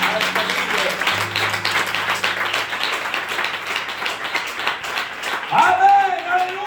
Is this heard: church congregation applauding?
yes